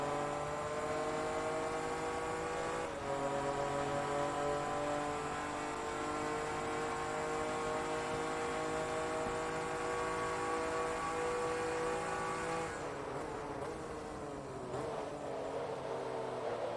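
Supercar engines in Forza Motorsport 2 during an endurance race at Mugello, a sustained high whine with layered harmonic drone that holds steady, then shifts pitch near the end as gears change, with no talk.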